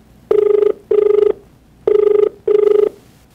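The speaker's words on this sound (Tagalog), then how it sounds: "Tawagan nga natin itong si Edward" Ringback tone of an outgoing phone call, four loud, even electronic buzzes in two pairs, each about half a second long with short gaps, close and clear with no talk.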